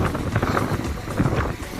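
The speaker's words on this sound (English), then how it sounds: "And it's far too windy." Strong wind buffets the microphone on a street in Hurghada, a steady low rumbling roar with gusty swells throughout, close and loud with no voices.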